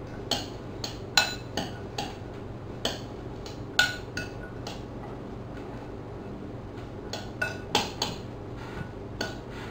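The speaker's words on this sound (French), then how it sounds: "On va bien mélanger tout ça ensemble" Salad tossed with a drizzle of olive oil in a bowl for a pea soup dish, utensils clinking and tapping against the bowl in scattered light knocks and scrapes, close and fairly quiet.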